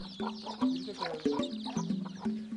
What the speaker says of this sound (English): they have chickens, which are used mostly for meat